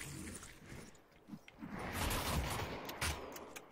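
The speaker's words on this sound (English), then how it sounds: "Ooh, we get some nade action." Video game combat in a Population: One tower match: muffled grenade blasts and scattered gunfire roll through at moderate volume, with a couple of sharper hits near the end and no voices.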